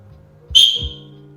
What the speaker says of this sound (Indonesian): Titik kita isyaratkan sebagai satu peluit kecil, pendek.